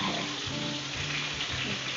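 Butter fries in a hot pan with a steady, dense, crackling sizzle throughout, close and continuous with no talking.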